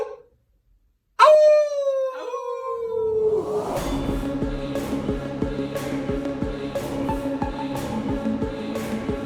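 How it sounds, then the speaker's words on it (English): A dog howls, one long, clear, sliding howl up close followed by a run of shorter yips and howl-like cries, loud and alone with no talking. "He's never howled before."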